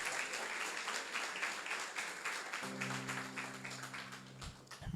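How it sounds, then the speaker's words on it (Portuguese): A church congregation applauding in praise, a steady wash of many hands clapping throughout, fairly quiet and distant, with a low tone entering partway through. "Então aplaude o Senhor Jesus"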